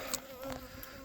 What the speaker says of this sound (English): you can see the bees right there. They're busy. They're active.